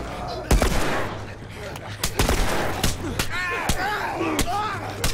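Gunfire in The Last of Us Remastered on PS4, set in the American History Museum: about six sharp, loud shots spaced irregularly over a low droning background, with voices talking between the bursts.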